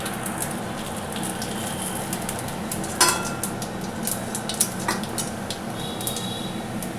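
Cumin seeds tempering in hot oil in the pan after bhetki fish has been fried, a steady dense sizzle throughout with a few sharp utensil clinks and knocks near the middle.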